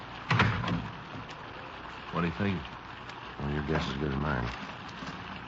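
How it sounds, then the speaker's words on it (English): In a 1950s radio drama, rain patters steadily outside an open front door, a soft hiss running under short exchanges of voices and a brief knock. "Don't let all the rain in."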